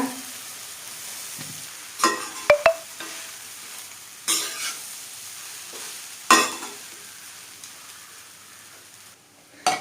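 Corn flour stirred in a pan with fried cashews and raisins gives a soft steady sizzle, punctuated by several sharp scraping knocks of the spoon against the pan, with no talking.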